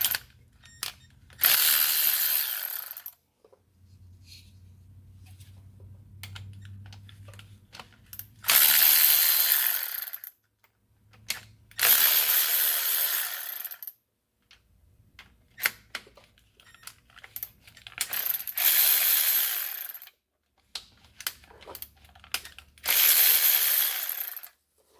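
Ratchet loosening 8 mm transmission valve body bolts on a 6.0 Ford F350 Powerstroke's 5R110W transmission, heard as repeated bursts of rapid clicking several seconds long, separated by quiet pauses and low mechanical rumble, close and loud, without talk.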